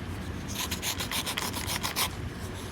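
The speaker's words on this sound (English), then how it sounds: "Take your tortillon when it gets all goopy on the tip. Just rub it." A paper tortillon blending stump is rubbed back and forth to clean its smudged graphite tip, producing a rapid, close scratchy rasping in quick regular strokes for a few seconds, with no talking.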